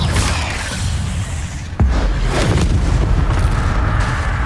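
The Incendio fire spell cast in Hogwarts Legacy: a loud whooshing burst erupts into a heavy, booming roar that stays dense and close, on top of an already rumbling battle din.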